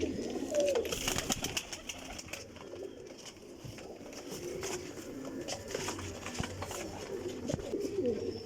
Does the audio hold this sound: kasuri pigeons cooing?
yes